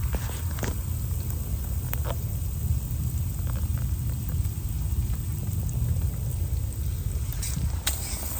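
Garden hose water sprayed onto concrete during summer watering of a bonsai garden, a steady broadband hiss with low rumble running continuously, fairly close and loud, with a few brief clicks.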